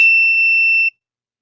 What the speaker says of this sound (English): loud beeping, and now it's configuring.